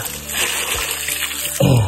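Water flows steadily without pause, a continuous close rushing wash that holds at an even level before a brief louder splash near the end.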